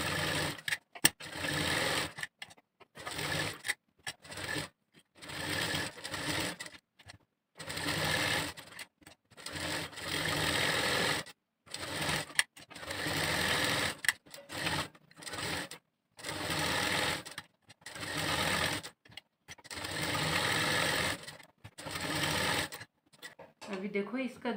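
A sewing machine stitches blouse fabric and lining together in repeated runs of rapid, even whirring, separated by short pauses, while someone talks quietly over it.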